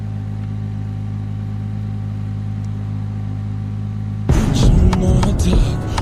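A V6 supercar engine idles with a steady low hum, then revs up sharply for the last couple of seconds, close and loud with no talk.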